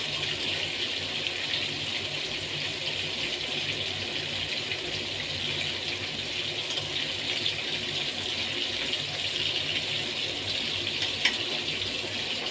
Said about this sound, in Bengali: এগুলো লাল লাল করে সব পকোড়াগুলো ভেজে নেবো।